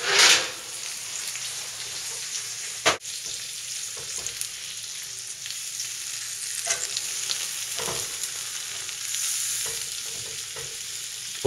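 Ribeye steak frying in oil with garlic and seasonings, a steady close sizzle and crackle throughout, with a few louder pops and utensil scrapes and no talk.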